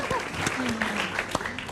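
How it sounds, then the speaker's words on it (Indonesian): Short burst of audience clapping on a comedy show, moderately loud and brief, mixed with voices and crowd noise. "tepuk tangan dong buat Bulog."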